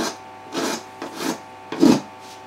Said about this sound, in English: it's the file.